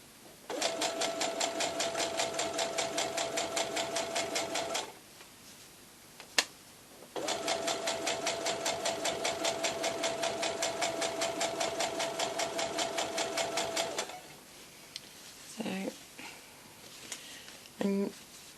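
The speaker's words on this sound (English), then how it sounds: "So I just chain sew the whole thing together, so it's all linked together." A sewing machine chain-sews fabric pieces for a baby blanket in two long, loud bursts of rapid, steady needle clatter separated by a short pause, then falls quiet with a few faint handling sounds and a brief voice.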